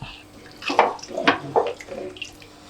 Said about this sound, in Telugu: ఈ చెంబు వాటర్ వేసాను.